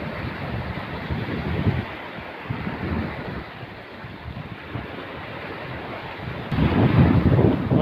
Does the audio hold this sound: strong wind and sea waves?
yes